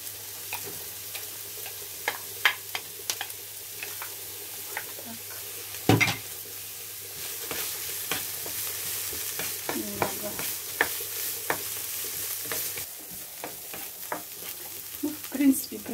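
Carrots frying in a pan for a lean rassolnik, a soft continuous sizzle broken by frequent spatula scrapes and clicks against the pan, with a loud clatter early on and no talk.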